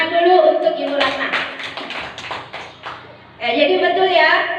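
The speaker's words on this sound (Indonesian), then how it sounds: "tepuk tangan dulu untuk Ibu Ratna" A short round of clapping from a small group, brief and moderately loud, with talking before and after.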